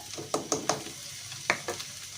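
Cubed carrots, boiled peas and corn kernels are mixed in a bowl, giving a handful of short, light clattering knocks at uneven intervals, close and fairly quiet.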